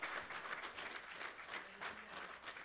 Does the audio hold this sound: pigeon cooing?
no